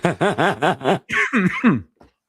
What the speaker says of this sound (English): I'm coughing now because I'm laughing too hard.